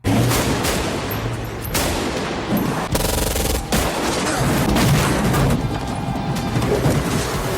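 Dense, loud gunfire rattles through a film shootout between robbers and their opponents: continuous automatic bursts and heavy shots layered over a rumbling action mix, with no voices.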